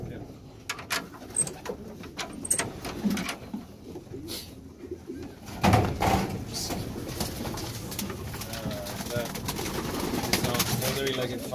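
Racing pigeons coo softly in a loft in Tasmania, with scattered wing flutters, shuffling and occasional clatters, while people murmur quietly in the background.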